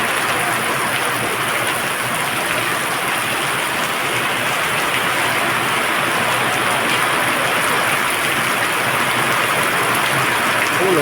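Heavy rain pours down in a dense, steady hiss that fills the scene from start to finish without a break.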